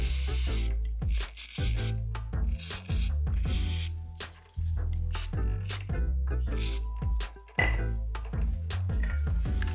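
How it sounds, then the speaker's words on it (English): Brake cleaner sprays from an aerosol can onto motorcycle brakes in repeated loud hissing bursts, close by and separated by short breaks. "So I've got just some of my general brake cleaner here. I'm gonna spray a lot of this down."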